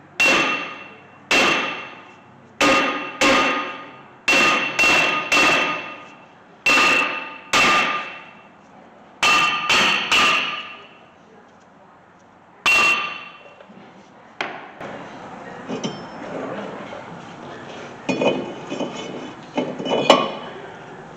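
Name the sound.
hammering the brake rotor off a 2008 Toyota Corolla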